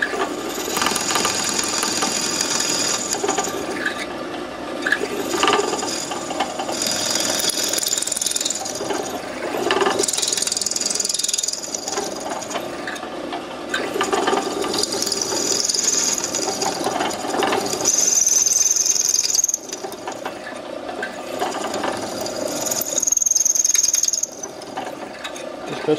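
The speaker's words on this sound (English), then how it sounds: "The drill press is on a slow speed, but that smoke is just the cutting fluid." A drill press running at slow speed drills and reams the trunnion of an AK rifle barrel, giving a steady, continuous mechanical whir with ratcheting, grinding texture that holds close and fairly loud throughout.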